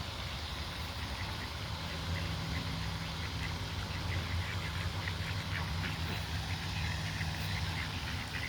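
Ducks in the United States quack in a soft, scattered chorus at some distance, over a constant low hum and background noise.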